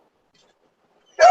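A single short dog bark or yip, loud and close, bursting out at the very end after near silence.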